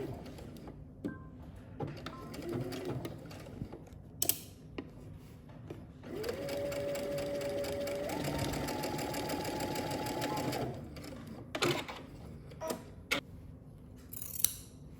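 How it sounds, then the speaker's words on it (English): A sewing machine stitches straps in place with one steady mechanical run of several seconds that speeds up partway through, framed by small handling clicks and rustles before and after. "I'm just gonna open this back up and stitch them in place"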